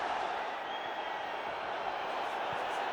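Football stadium crowd at an Arsenal match near full time, a broad, steady roar of distant voices and whistling sustained throughout with no breaks.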